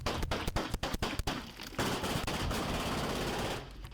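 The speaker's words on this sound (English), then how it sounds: "Dion's got a fucking AK." A rapid burst of AK rifle gunfire erupts close and loud in a house during a police raid, a string of sharp cracks followed by a dense, sustained roar of continuous automatic fire.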